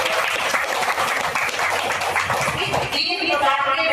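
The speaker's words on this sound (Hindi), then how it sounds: "बुजुर्गों को भी ताली बजा के।" Applause from an audience at a spiritual satsang gathering, a steady wash of clapping held for a few seconds while a voice carries on over it.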